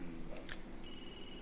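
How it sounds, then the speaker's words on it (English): A telephone rings in The Sims 3, a steady electronic trill that starts partway through and carries on to the end, after a short stretch of game sounds and music. "Who's getting a phone call?"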